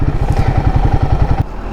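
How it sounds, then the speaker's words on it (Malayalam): Royal Enfield Guerrilla 450 motorcycle being ridden, its engine giving a loud, close, rapid regular thumping pulse with a steady low drone and wind noise, no talk. "നമ്മൾ കഴിഞ്ഞൊരു ഹാഫ് ആൻ അവറായിട്ട് വണ്ടി ഓടിച്ചുകൊണ്ടിരിക്കുകയാണ്"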